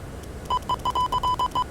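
A cockpit test-switch chime in the Prepar3D flight simulator, a rapid series of about eight short bright electronic dings in quick succession, clear and close with no talk over it.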